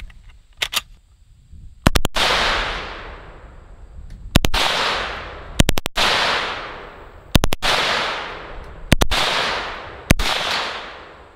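Full-auto fire from an M2 carbine rings out at an outdoor range aimed at a target, in sharp, loud bursts. Several separate short bursts crack out about every one to two seconds, and each one trails off into an echoing decay.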